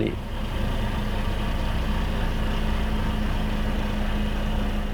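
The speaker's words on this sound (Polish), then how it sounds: "odpalenie silnika słyszany z kabiny emituje hałas na poziomie 60 dB" A truck engine heard from inside the closed cab gives a steady, loud low rumble and hum that holds unchanged throughout, without talk.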